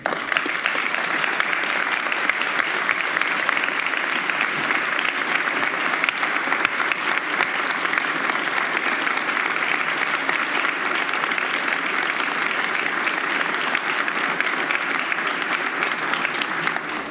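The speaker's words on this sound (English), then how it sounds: "So I appreciate the applause" Sustained audience applause during a State of the Judiciary address, a thick unbroken wash of clapping from a large crowd, loud and even for the whole stretch.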